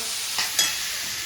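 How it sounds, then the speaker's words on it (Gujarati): Chillies frying in a pan alongside chana masala, a dense continuous hiss of hot oil up close, with one or two faint stirring scrapes on top. "મરચાઈ તળી નાખે થોડો"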